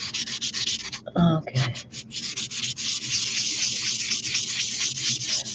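Faux gemstone made of Pardo jewelry clay being sanded by hand, a steady close scratchy rubbing in quick repeated strokes, with a brief pause where someone says a word.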